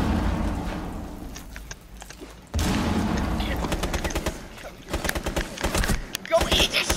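Rapid bursts of video-game gunfire crackle in quick volleys, dropping off briefly and then returning dense and loud, with players talking over the shooting.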